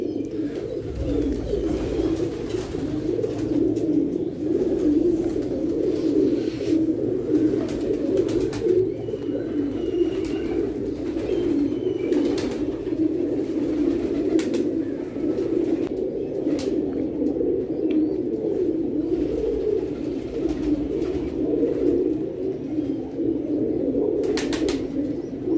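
Several pigeons, including a pure dub pigeon, coo continuously nearby, layered soft rolling calls with occasional wing flutters and faint background noise.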